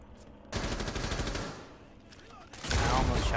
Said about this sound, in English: I almost shot Sledge in the throat.